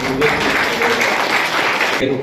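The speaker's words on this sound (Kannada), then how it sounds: "ಎಲ್ಲರೂ ಜೋರಾದ ಚಪ್ಪಾಳೆ" An audience claps at a school event, a Kannada Sahitya Parishat endowment lecture program at Ramasagara Hatti, Kudligi: dense, continuous applause fills the room evenly, with voices mixed in.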